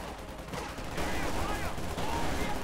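Dense machine gun and rifle fire rattles in the Company of Heroes 2 strategy game, rapid bursts blending into a continuous battle din with a commentator talking over it.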